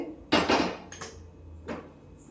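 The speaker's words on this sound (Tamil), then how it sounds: "அடுப்பில் இந்த மாதிரி வானல் வச்சுக்கலாம்." A frying pan set down on a home kitchen stovetop, giving a couple of sharp metallic clanks close by followed by a lighter knock, with quiet pauses between.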